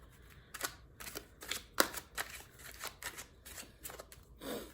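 Tarot cards are shuffled close up and fairly quietly, giving a run of quick papery riffles and flicks in an uneven rhythm, with no talking.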